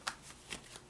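Tarot cards are shuffled by hand in quick riffling bursts, three short crisp rustles close to the microphone within under a second.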